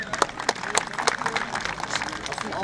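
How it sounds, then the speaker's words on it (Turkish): Scattered outdoor applause at a plaque ceremony during a dog show event in Denizli, with a handful of distinct, uneven claps rather than a full ovation, mixed with background talking. "güçlü alkışlarla alana davet ediyorum"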